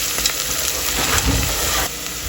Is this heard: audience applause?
no